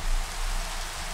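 Nighttime rain in the video game Minecraft falls as a constant, even hiss of raindrops, loud and uninterrupted with no voices.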